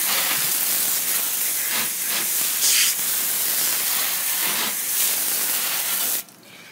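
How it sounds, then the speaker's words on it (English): A hose sprays water hard against a scrub brush, a loud, continuous hissing rush with slight surges, cutting off abruptly near the end. "Then I hose off my scrub brush once again"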